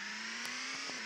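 A steady electronic car engine hum with a constant pitch, a mobile game car revving, brief and unchanging throughout.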